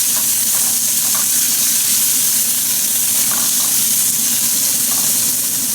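Carrots sizzle loudly in a hot frying pan with some water, a dense continuous hiss and crackle of frying with occasional stirring, no talk.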